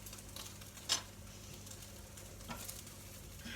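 Soft, steady sizzling of bacon and eggs frying in a pan, with a faint low hum and an occasional sharper crackle.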